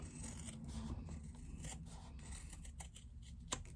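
Fabric shears snip away excess seam allowance at a sewn pouch corner, a few quiet crisp cuts over a steady low background hum.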